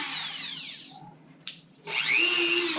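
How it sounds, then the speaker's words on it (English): Dremel rotary tool spinning, a loud close whine that winds down to near silence, briefly blips, then revs back up to full speed. "which way is this Dremel spinning?"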